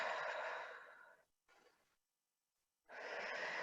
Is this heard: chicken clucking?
no